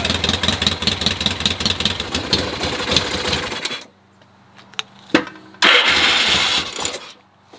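A 1975 Yamaha XS650 motorcycle engine is kickstarted and settles into a loud, uneven idle with chugging pulses. It cuts out abruptly partway through, a few brief knocks follow in near silence, then the engine catches again and runs loudly.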